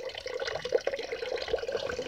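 Water from an orchid house fountain trickles and splashes continuously nearby, a soft steady babble with occasional brighter drips and gurgles.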